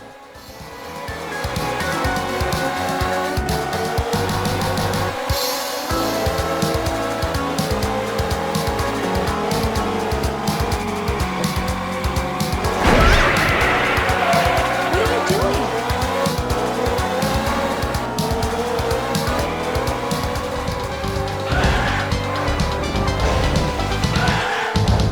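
Engines roar and tires squeal from race cars in the Japanese version of the arcade racer OutRun 2, running a two-player system link, with steady loud engine drone and skids under continuous backing music throughout.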